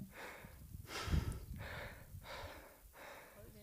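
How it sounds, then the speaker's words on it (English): Heavy, slightly exhausted breathing recorded up close, four or five long rasping breaths in an even rhythm, each in and out clearly audible and alone, performed as a sound effect. "Breathing, slightly exhausted."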